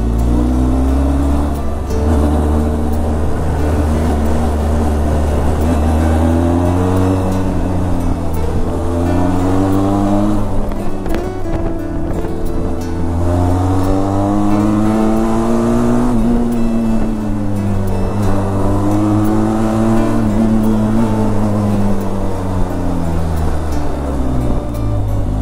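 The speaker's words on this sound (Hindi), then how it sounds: "गाड़ी ये देख डबल क्रॉस कर रही है।" A car's engine drones loudly and steadily on a winding mountain road in the hills near Almora as it overtakes, its pitch rising and falling with each shift in throttle, with no talk over it.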